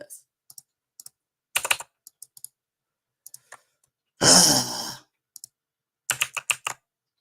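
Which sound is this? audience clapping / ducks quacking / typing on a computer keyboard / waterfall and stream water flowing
typing on a computer keyboard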